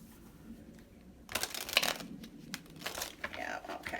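Tarot cards are shuffled during a card reading, heard as bursts of riffling and flicking paper, loud and close, with quieter handling between them.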